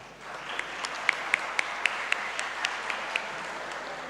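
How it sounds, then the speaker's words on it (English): Audience applause at an online-hybrid Islamic economics and business conference, a steady wash of clapping with a few sharp individual claps standing out, moderately loud and continuous without talk. "please give applause to all of us"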